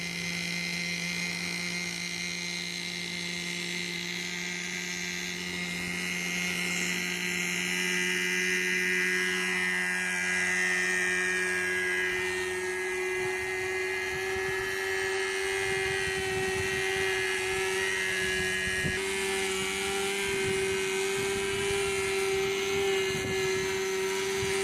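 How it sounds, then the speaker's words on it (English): A Harobo Shuttle Plus 2 RC helicopter hovers close by, a steady high whine of rotors and motor with sustained droning tones that shift slightly in pitch, rising in intensity toward the end. "that was me hovering the Harobo Shuttle Plus 2."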